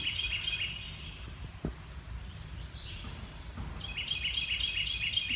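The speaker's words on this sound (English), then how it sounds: "that bird sounds a bit unnatural, and it is being answered from a considerable distance" A bird gives a bright, rapid, warbling call, then after a pause a similar call answers, both fairly faint outdoors over low background rumble, with no talking.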